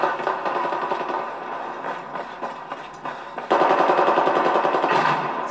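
Compact 45 pistol gunfire in Battlefield 4, a steady run of rapid, loud shots that thins briefly, then returns even louder and denser alongside other battle noise.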